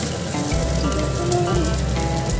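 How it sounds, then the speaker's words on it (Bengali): Vada fritters frying in hot oil in a home kitchen, a close, steady dense sizzle and crackle that stays loud throughout with no talking. "দেখো তো আর একটু ভেজে নিচ্ছি"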